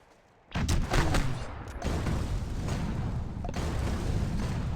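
Gunfire erupts in the Heroes of Newerth video game, a dense loud volley of shots and crackling bursts that continues over a constant rumbling battle din.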